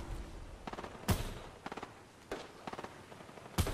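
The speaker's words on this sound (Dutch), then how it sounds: "Oh, schoten hier verder. Daar is schoten, hoor ik." Gunfire in the video game Fortnite cracks out in short separate bursts, loud sharp shots with rapid rattling volleys between them over a low game background.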